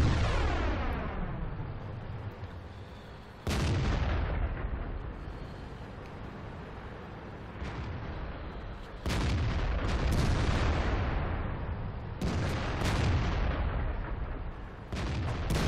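Heavy self-propelled artillery gun shots in World of Tanks, four or five loud booming blasts at uneven intervals, each followed by a long rumbling decay under continuous engine and battle noise.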